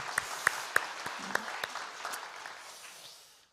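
A church congregation applauds at a Christmas Day worship service: several sharp, distinct claps at first, then dense, steady clapping that tapers off and fades out at the end.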